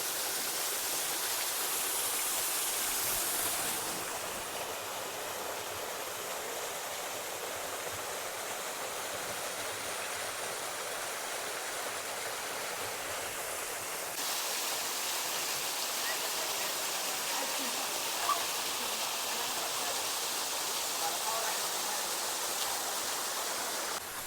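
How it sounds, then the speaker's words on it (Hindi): Waterfall at Aman Dhara in Hazaribagh, a steady broadband rush of falling water, constant and fairly distant, with no voices. "सामने जहाँ पे पानी गिर रहा है वो बहुत ज़्यादा गहरा है।"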